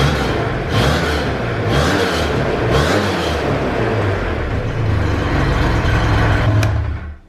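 Arctic Cat F1100 snowmobile engine running steadily and loud, with a few short throttle blips that briefly lift its pitch, heard close up with no talking.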